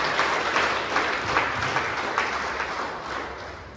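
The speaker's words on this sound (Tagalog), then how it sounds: "Isang malakas na palakpak sa mga kapatid." A church congregation at an Easter Sunday sunrise service applauds loudly and steadily, a dense wash of many hands clapping with no talk over it.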